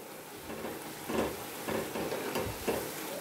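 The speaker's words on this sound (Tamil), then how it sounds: "ரொம்பல ஹைல வைக்காம மீடியம்ல வெச்சிட்டு நம்ம பண்ணனும் கொஞ்ச நேரத்துல ஃப்ரை ஆயிடும்" Peanut pakoda fry in fresh oil on medium heat, a steady soft sizzle broken by a few rhythmic scraping stirs of a ladle in the pan, close by and fairly quiet.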